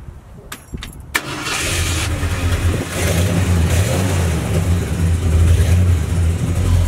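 A Ford F250 truck cranks over briefly, then its engine catches and settles into a loud, steady run with rising revs, close by and without talk.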